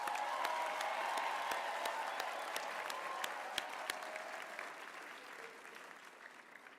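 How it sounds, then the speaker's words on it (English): Graduates receive a round of applause at a university graduation ceremony, a broad sustained crowd clapping with sharp individual claps standing out, fading slightly toward the end. "Can we give our graduates another round of applause?"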